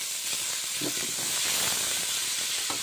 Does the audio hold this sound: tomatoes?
yes